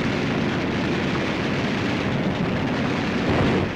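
Bombs and gunfire pound enemy positions on Tinian during a wartime air raid, a dense, steady roar of blasts and rumbling with no breaks, loud and close throughout.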